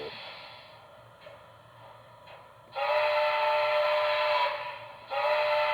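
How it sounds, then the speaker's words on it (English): A Broadway Limited Imports Santa Fe Blue Goose model train's steam whistle sounds two sustained, breathy blasts separated by a brief pause, with a faint mechanical rumble underneath. "I think this steam whistle is pretty neat"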